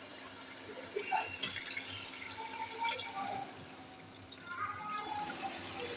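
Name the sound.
pouring beef yakhni stock into masala for nihari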